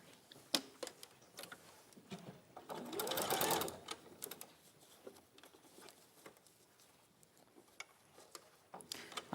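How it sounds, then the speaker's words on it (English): A domestic sewing machine stitches a row in a quick ticking burst, fairly faint and close, with scattered soft taps and handling noises before and after. "and I'm going to sew that row again."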